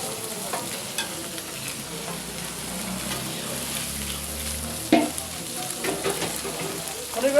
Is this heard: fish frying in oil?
yes